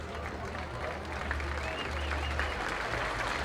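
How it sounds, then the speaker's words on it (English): Fans clap at a minor-league baseball ballpark during a Laredo Lemurs at Wichita Wingnuts game, a steady, even wash of applause filling the whole stretch at moderate distance. "Fans will clap for him here at the ballpark."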